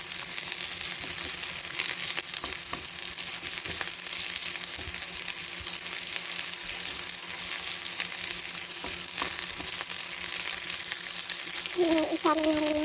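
Onions sizzle in a hot pan for a pancit with meatballs, a steady close frying hiss with occasional stirring scrapes throughout.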